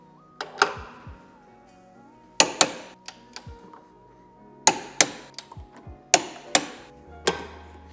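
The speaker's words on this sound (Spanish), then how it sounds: "al llevar todos los tornillos de 12, los apretaremos a 87 Nm" Clicking ratchet and wrench strikes from tightening 12 mm tow hitch bolts to 87 Nm on a 2024 Mercedes-Benz V-Class, sharp metallic clacks in short clustered bursts with quiet gaps between them.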